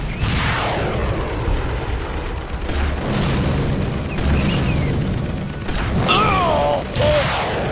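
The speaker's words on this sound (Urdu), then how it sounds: "توپ خانے سے گولے برس رہے ہو۔" Artillery shells burst in a war audio drama, a rapid series of loud booms and crashes one after another, with mechanical clatter and rising whistle-like tones layered over the barrage.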